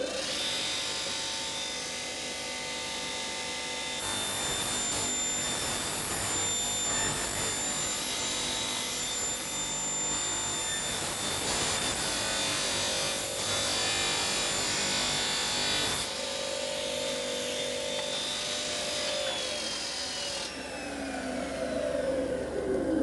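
A dimension saw rips a narrow strip off the edge of a wooden board, a loud, steady, close-up whine of blade cutting through wood that runs for over twenty seconds with only slight shifts in tone.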